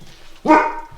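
A single sharp dog bark sounds nearby, short and fairly loud against a quiet background.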